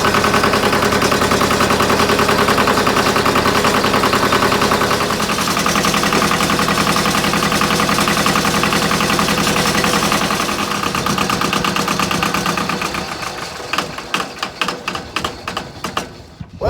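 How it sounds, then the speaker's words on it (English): A 1978 Yanmar YM1700 compact tractor's small diesel engine runs steadily at idle, a loud continuous rattling clatter that falls away and sputters to a stop near the end. "I'm going to go ahead and run the engine for a little while"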